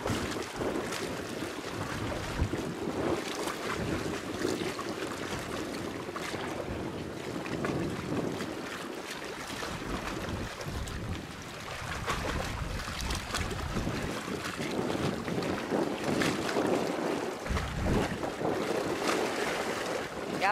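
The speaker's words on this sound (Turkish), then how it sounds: "Acayip rüzgar var." Strong wind roars over the sea in Gerence Bay, a steady buffeting rush into the microphone with surging gusts and water sounds, continuous and close, with no talk.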